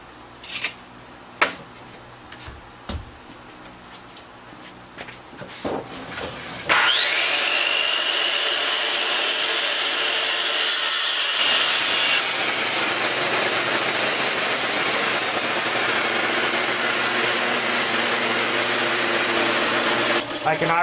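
A power saw with worn bearings starts up after scattered workshop clatter and cuts wood for a stool, a loud, steady high whine that runs continuously before cutting off at the end.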